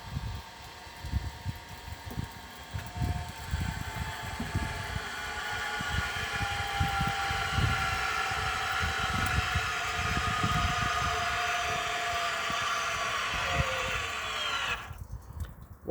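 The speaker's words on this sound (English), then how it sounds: "you'll hear it whirring to start with when it's engaged against the wheel" Motor movers on a 2016 Buccaneer Cruiser caravan whirring steadily as they engage against the wheel, a sustained mechanical hum with rising tones lasting about fifteen seconds before cutting off.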